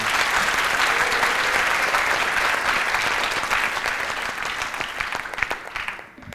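University students at a Guinean campus taping of a TV show applaud themselves, with loud, steady clapping that gradually thins and fades out near the end, with no talk.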